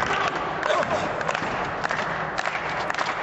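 Pro wrestling crowd cheering and shouting for Magnum in an arena, a steady noisy roar with scattered claps and yells, moderately loud throughout.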